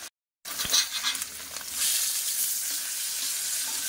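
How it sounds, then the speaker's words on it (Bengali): Pieces of katla fish fry in oil in a kadai, giving a steady, close sizzling hiss that swells after a short silent gap and then holds evenly, with no talking. "মাছটা হালকা হালকা করে একটু ভেজে নিচ্ছি"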